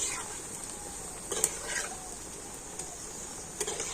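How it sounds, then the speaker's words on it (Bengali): Homemade potato chips frying in oil over low heat, floating on the surface: a steady, soft sizzling hiss with a few light clicks of a utensil. "দেয়া মাত্রেই তো চিপসগুলো কত সুন্দর তেলের উপর ভেসে উঠেছে"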